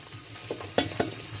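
Ginger fries in a pan as the tadka for sarson ka saag starts, with a soft, close sizzle and a few quick stirring clicks and scrapes over a short stretch.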